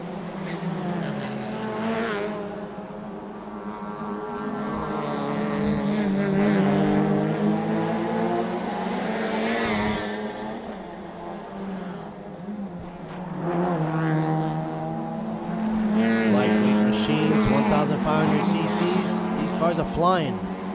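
Race cars in a Thailand Super Series touring car event roar around the circuit, engines rising and falling as they pass, under steady commentary from a race announcer.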